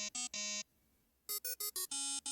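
A synthetic electronic ringtone from the video game Limbus Company plays in short bright bursts, three tones, a brief pause, then a quicker run of beeps ending in a longer tone, clear and close with no talking.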